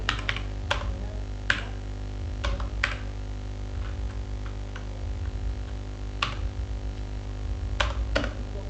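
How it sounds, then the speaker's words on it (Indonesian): Keys click on a computer keyboard in short irregular bursts and single taps, close and distinct over a low steady hum, while a password is typed during a WordPress brute-force security test. "kita ketik lagi password"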